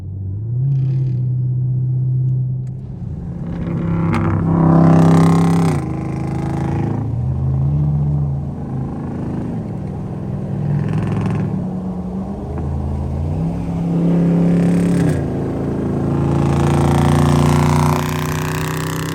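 A deep, throaty SRT Jeep engine rumble idles and swells with several revs, loud and close, pulsing for the whole stretch.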